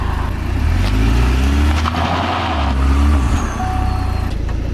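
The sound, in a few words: Pontiac sports car doing a burnout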